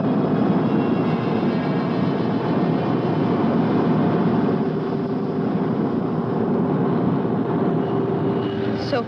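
A spacecraft descends for a vertical landing with its landing legs extended, its engines a steady, loud, broadband roar that holds without a break for the whole stretch.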